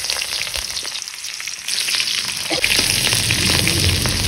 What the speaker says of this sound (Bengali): এতিয়া আমি পিঁয়াজখিনি দি দিওঁ এনেকে